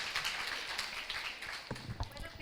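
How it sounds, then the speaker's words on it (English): Audience applause at a panel discussion on healthcare for young India, a dense steady wash of clapping hands sustained throughout, with a few louder low thumps toward the end. "Can we all extend a huge round of applause for both of them"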